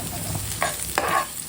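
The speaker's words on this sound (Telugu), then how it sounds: "ఆలు ఫ్రై చేస్తున్నా, కొంచెం ఆయిల్ ఎక్కువ వేసా" Potatoes frying in extra oil in a non-stick pan, stirred with a steel spatula: a close, steady sizzle with two distinct scraping stirs, and no voices.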